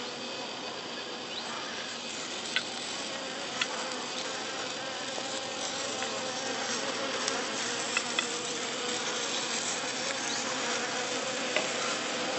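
Honeybee colony buzzing steadily after an Avartin smoke strip is lit in a tin lid and placed in the hive, a dense continuous drone with occasional sharp ticks and no voices.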